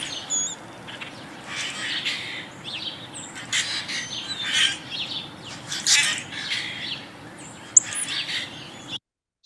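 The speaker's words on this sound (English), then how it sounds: "I'll play the songs of the common grackle for you now." A male common grackle, a blackbird, sings a mating song of harsh squeaky bursts and chirps, repeated at irregular intervals over a steady low rumble of background noise.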